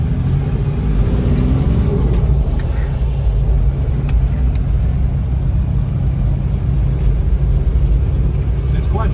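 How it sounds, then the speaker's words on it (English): The naturally aspirated diesel engine of a 1981 Toyota Land Cruiser idles with a steady low rumble, heard from inside or close by, under people talking. "It's quite sprightly too for a naturally aspirated diesel"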